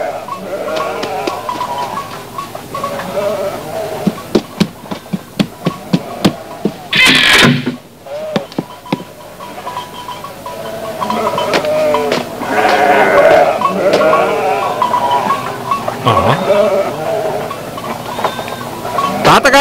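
A cartoon goat bleats several times, loud and close, among short knocks and other effects, with character voices speaking in between.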